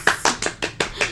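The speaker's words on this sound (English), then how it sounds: "Can I get a round of applause, please?" A short burst of six crisp, close hand claps at a brisk, even pace, sounding like a single person or a few people clapping alone with no talk.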